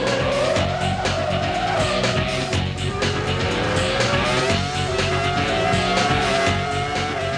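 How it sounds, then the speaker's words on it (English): A Formula 1 car from the 2002 season braking late into the Nouvelle chicane, tyres squealing and skidding against a loud continuous engine whine as the pitch slides and shifts. "braking too late into the Nouvelle chicane ends his fight back"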